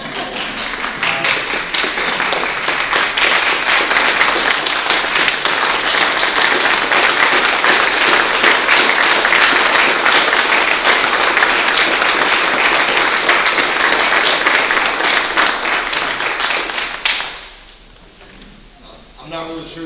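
Sustained audience applause fills a school district board meeting room, dense and steady for about seventeen seconds before cutting off abruptly into quiet room tone.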